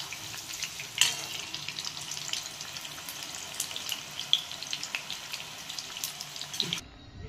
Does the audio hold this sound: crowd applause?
no